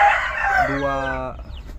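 Backyard chickens, being fed, cluck loudly and close at first, then a rooster gives a single clear crow that trails off, with no talk.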